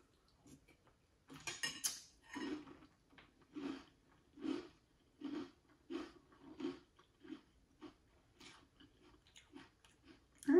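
Cereal with marshmallows being chewed close to the mic, soft rhythmic crunching bites repeating steadily, with light spoon and bowl clinks early on and no talk.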